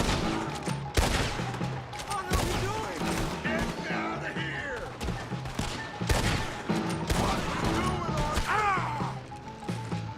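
Gunfire in a video game comes as repeated volleys of sharp shots and impacts, a steady barrage at moderate loudness that is sometimes mixed with other action sounds.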